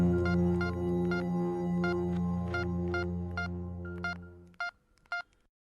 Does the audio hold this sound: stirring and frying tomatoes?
no